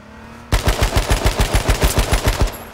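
Rapid burst of automatic gunfire in the battle royale game H1Z1, about a dozen evenly spaced loud shots in a steady rhythm, close and dominant with no talking.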